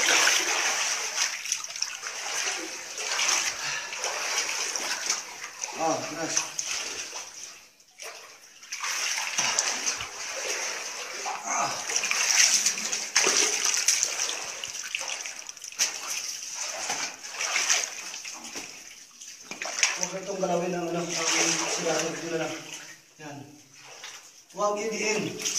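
Water runs and splashes steadily throughout, with people talking over it close by.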